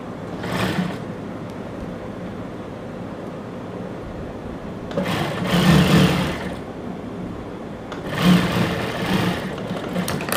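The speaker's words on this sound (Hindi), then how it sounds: "और इधर किनारी पे हम सिलाई लगाएंगे।" A sewing machine stitches along the edge of a pant piece, in short bursts of loud whirring separated by quieter spells of low hum.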